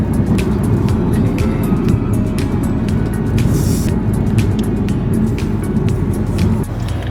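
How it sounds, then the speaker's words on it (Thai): A car driving steadily along a road beside rice fields, heard from inside with a constant loud low engine and tyre rumble and small rattles and clicks over it, with no one speaking. "เดี๋ยวขับไปเรื่อยอ่ะ"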